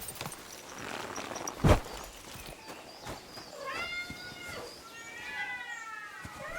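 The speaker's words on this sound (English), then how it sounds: "Okay, that noise I can identify. These are cats." Cats meow in Kingdom Come: Deliverance II, several clear, fairly close meows in the second half, after a single dull thump and soft footsteps.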